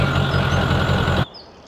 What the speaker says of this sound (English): Oh, this truck's loud.